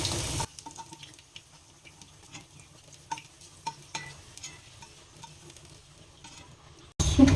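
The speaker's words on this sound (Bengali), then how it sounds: "সজনে ডাঁটা আর বেগুন ভাজা হয়ে গেছে, হালকা করে ভেজে তুলে নেবো" Moringa drumsticks and eggplant pieces fry lightly in oil in a home kitchen for shukto, giving a soft, steady sizzle with occasional stirring clicks; short louder bursts open and close the stretch.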